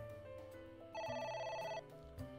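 Synthesized telephone ring in the video game AI: The Somnium Files, a bright electronic tone repeating in short bursts over a soft musical background, clear and near with no talk.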